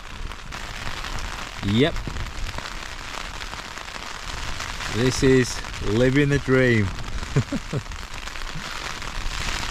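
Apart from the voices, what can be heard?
rain falling on tent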